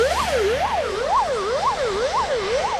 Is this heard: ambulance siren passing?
yes